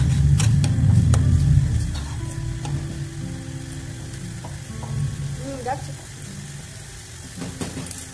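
Masala spice paste sizzles as it is sautéed in a pan for Bombay duck curry, loudest at first and then settling into a softer crackle with scattered clinks and scrapes.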